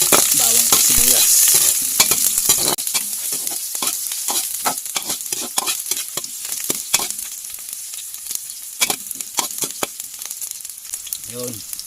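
Garlic and onion sizzle in hot oil in a pan, with frequent stirring scrapes and clatter over a continuous frying hiss, loud and close.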